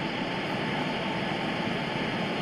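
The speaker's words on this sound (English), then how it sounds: "Turn down the static." Radio static in the video game Bad Parenting: a constant, loud, even hiss of white noise with a faint steady hum running underneath, with no voices over it.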